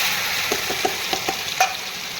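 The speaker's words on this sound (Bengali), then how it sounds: "গরম হয়ে গেছে আমি এবারে বাটাটা দিয়ে দিচ্ছি মানে সর্ষে সাদা সর্ষে আর বাটা" White mustard paste hits hot oil in a pan for a fresh fish dish, giving a steady close sizzle broken by a few soft spatter pops and ladle scrapes, with no voices.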